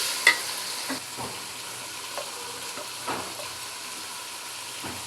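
Ginger and garlic fry in a pan with bay leaf, whole cumin, cardamom and cinnamon, a steady close sizzle broken by a few sharp scrapes and clinks of stirring.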